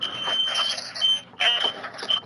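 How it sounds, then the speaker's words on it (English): A smoke detector gives a high, thin electronic tone in two long bursts with a short break between them, heard faintly under people talking. "at least your fire detector works. Smoke detector."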